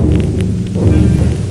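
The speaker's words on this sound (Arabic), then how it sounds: "عواصف" Thunderstorm effect from an Arabic radio drama: a loud, continuous low rumble of thunder with a rain-like wash over it, steady throughout and heard alone.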